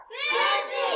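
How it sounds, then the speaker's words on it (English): A group of children in a classroom yell together during a sight-word card drill, a loud, close, sustained chorus lasting about a second. "Please don't yell."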